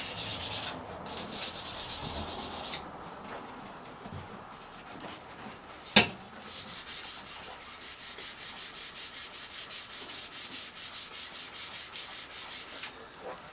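Sandpaper rubbed back and forth across a hardened 24-layer knife blade, a close, steady rasping scrape in long strokes, broken by a short pause and one sharp knock midway.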